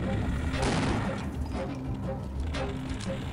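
Gunfire in the Half-Life video game's Xen level, a sustained, loud barrage of overlapping shots and booms over a dense, rumbling background, with little speech.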